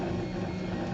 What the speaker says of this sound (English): So this is my printer printing right now.